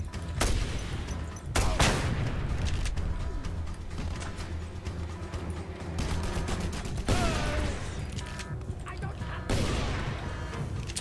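Revolver shots ring out in Just Cause 2, four sharp, loud cracks spaced irregularly across a steady bed of game noise and ambient rumble.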